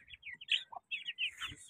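Aseel chicks chirping near a hen: a quick run of high, thin peeps and tweets, close and fairly soft, with brief gaps between calls and no talk.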